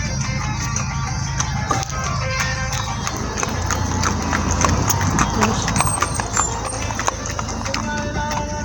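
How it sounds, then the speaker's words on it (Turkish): Horses' hooves clip-clop steadily on a road near Lara beach, a continuous close rhythm of hoof strikes over outdoor traffic and ambient noise. "bu arada atlara da denk geldik"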